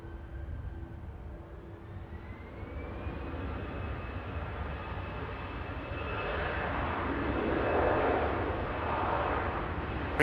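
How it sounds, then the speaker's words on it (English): An Airbus A330 airliner taxis toward the runway at Manchester Airport, its engines a steady, fairly distant whine and rumble that slowly rises in pitch and grows a little louder. "A330 is just heading to the runway now"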